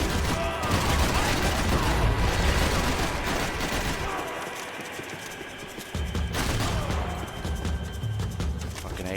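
Sustained AK rifle gunfire from a Max Payne 3 shootout, dense rattling bursts filling most of the stretch with a brief thinner lull midway before the firing resumes loud and close.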